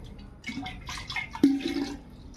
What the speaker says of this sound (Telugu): గలాస్కి నేను గలాసున్నర నీళ్ళు పోస్తున్నానండి.